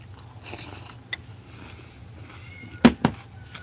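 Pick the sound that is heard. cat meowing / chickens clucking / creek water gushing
cat meowing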